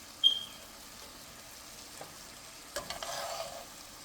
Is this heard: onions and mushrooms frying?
yes